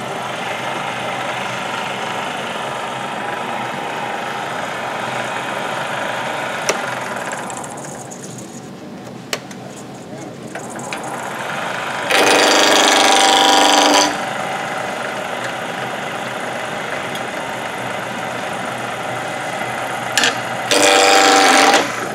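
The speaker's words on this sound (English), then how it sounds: "I'm using a spindle roughing gouge to round it," A wood lathe runs continuously while a spindle roughing gouge rounds a finial blank, giving a steady loud hum with scraping cutting noise and two brief, harsher bursts of cutting.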